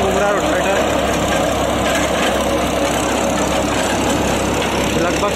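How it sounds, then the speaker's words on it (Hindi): Rotavator spinning at high RPM behind a New Holland 3600-2 tractor, a loud, steady engine drone with a broadband churning roar that holds evenly throughout. "साउंड भी सुन सकते हैं रोटावेटर के RPM के"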